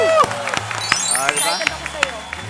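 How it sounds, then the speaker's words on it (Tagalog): Studio audience on a Filipino morning variety show claps and cheers after a performance by a dance troupe, with scattered sharp claps and loud whoops over music and voices. "Kaya palakpakan na may kasamang hiyawan!"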